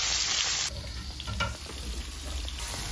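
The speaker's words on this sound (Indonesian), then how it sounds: "Udang kita goreng dulu, gorengnya jangan terlalu kering." Shrimp sizzle loudly in hot cooking oil in a wok, a steady close frying hiss with occasional stirring scrapes, louder at the start and then settling.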